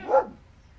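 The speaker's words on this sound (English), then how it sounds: "my dog's barking her head off because there's a dog across the street" A dog barks once at another dog across the street, a single sharp bark close by in a home workshop, fading quickly into a low background hum.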